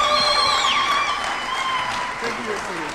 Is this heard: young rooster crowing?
no